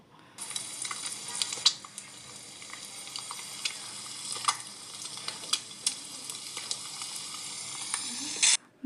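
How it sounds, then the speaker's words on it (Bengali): Fried tilapia added to boiling gravy sizzles in a pan with scattered clicks and taps of stirring, a steady bubbling hiss throughout and no voices. "গ্রেভিটা উতলে আসলে আমরা ভাজা মাছগুলো একে একে দিয়ে দেব।"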